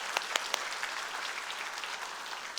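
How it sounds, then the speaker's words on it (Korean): Church congregation applauding its teachers, a steady wash of many hands clapping with a few sharper claps standing out, moderately distant and filling the whole stretch without voices. "우리 선생님들 애쓰시고 수고하시는데 박수를 한번 힘차게 격려했습니다"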